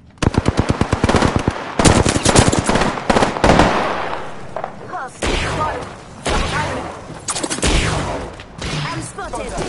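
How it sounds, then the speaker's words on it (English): Gunfire in the video game Apex Legends: loud, dense bursts of automatic fire with sharp booms and short gaps between volleys, close up, with a voice talking over parts of it. "I'm spotted. Taking fire."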